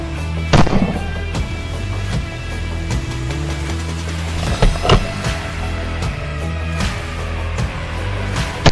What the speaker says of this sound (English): The sound of gunfire echoes across the valley